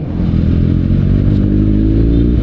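Heavy traffic on a busy road, heard from inside a moving vehicle, forms a loud, steady engine drone with motorcycle-like rumble and faint clatter, continuous and close.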